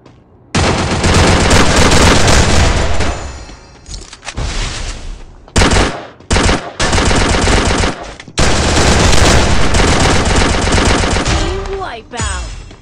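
Rapid automatic gunfire from the video game Garena Free Fire, loud bursts of shots broken by short gaps, continuing through most of the clip before fading out.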